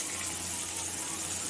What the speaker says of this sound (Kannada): ನೋಡಿ, ನೀರು ಹಾಕ್ತಿದ್ದೀನಿ.